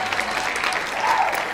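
A beatboxing workshop audience breaks into brief applause, a thick, steady patter of many hands clapping at once, close and fairly loud, with no voices on top.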